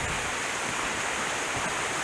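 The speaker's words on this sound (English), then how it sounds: "Making our way up the Cascade. We're still hiking along it here." A mountain stream cascade in Pisgah National Forest rushes steadily, a dense, even broadband roar of tumbling water heard up close with no other sounds.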